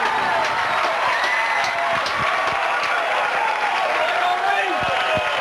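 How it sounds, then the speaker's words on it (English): Crowd at a 1990 South Carolina state championship high school baseball game cheering and clapping after a run scores, a steady roar with scattered shouts throughout, with a voice over it at times. "And this crowd is really pumped up."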